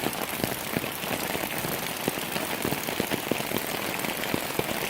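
Heavy rain pounding on the outside of an RV, a dense continuous hiss of drops with sharper individual taps drumming close on the surface.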